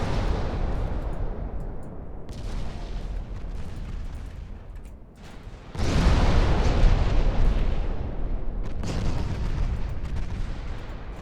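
Naval gunfire in the warship game Ultimate Admiral Dreadnoughts: heavy booming salvos merge into a dense rumbling roar, with a louder blast swelling midway and sustained rolling thunder around it, no voices.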